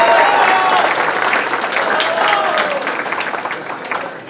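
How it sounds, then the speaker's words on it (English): Steady applause fills a room at a school spring band banquet, honoring seventh-grade band members, with faint voices mixed into the dense clapping that slowly tapers toward the end. "So another round of applause for them."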